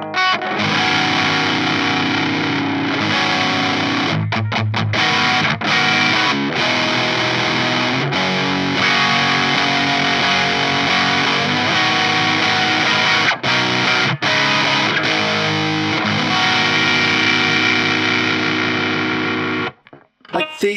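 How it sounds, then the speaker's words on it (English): An electric guitar plays through a Lichtlaerm Audio Total Distortion Worship mk2 pedal, heavily distorted chords and riffs, loud and saturated, with brief stops between phrases before ringing out at the end. "it has a really aggressive distortion sound"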